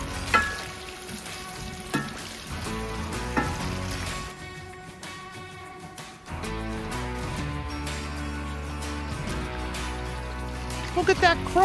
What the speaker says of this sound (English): The wings dive into oil, hear that sizzle.